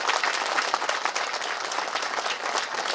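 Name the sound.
congregation applauding loudly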